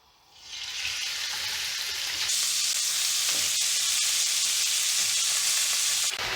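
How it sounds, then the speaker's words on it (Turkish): Meat hits a hot oiled pan for a home döner-style wrap and bursts into a loud, steady sizzle that builds within the first second and holds evenly throughout, with no talking. "tavam iyice ısındıktan sonra pişirme işlemini önce etten başlıyorum"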